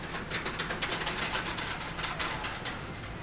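A steady rumbling rattle of a mine train roller coaster running along its track at Nagashima Spa Land, continuous and moderately loud with rhythmic clacking throughout.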